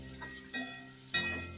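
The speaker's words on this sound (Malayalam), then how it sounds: "ഇനി ആവശ്യത്തിനുള്ള ഉപ്പിട്ട് കൊടുക്കാം നമുക്ക്. ഇനി നന്നായിട്ട് നമുക്ക് ഇളക്കി." A spoon stirs a salted papaya stir-fry in a frying pan, with two quick scraping strokes over a quiet, low sizzle.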